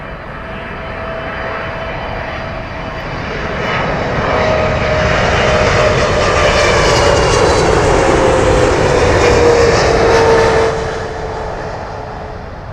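Heavy airliner arriving on runway 27L at London Heathrow, loud jet roar swelling as it passes close overhead with a descending engine whine, then easing away.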